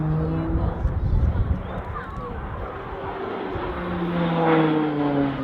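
A PC-9 propeller aircraft banks through a tight aerobatic steep turn at an air display, its engine droning steadily and shifting in pitch while a commentator talks over it throughout.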